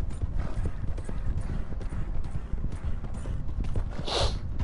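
Horse hooves clip-clop steadily while riding in Red Dead Redemption 2, a continuous rhythmic patter of steps with light mechanical clatter, close and moderately loud throughout.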